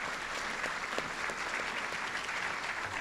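Steady audience applause fills a ceremony marking President Nixon's 105th birthday at the Richard Nixon Presidential Library, a dense, even wash of clapping hands sustained throughout.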